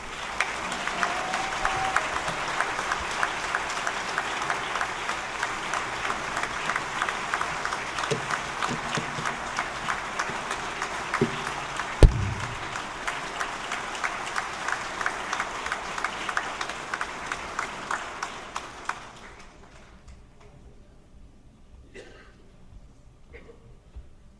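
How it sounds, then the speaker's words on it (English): A South Jersey audience gives sustained applause welcoming a speaker to the stage, a broad crowd clapping for nearly twenty seconds before fading to near silence, with a few scattered sounds after. "Please give a round applause and a South Jersey welcome to my friend, Loay Alshareef."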